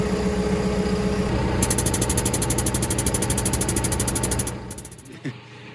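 A backhoe's diesel engine idles nearby with a steady, rhythmic throbbing pulse, then drops off in loudness near the end and leaves a quieter low rumble.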